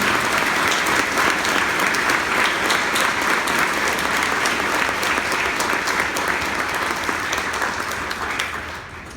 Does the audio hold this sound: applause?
yes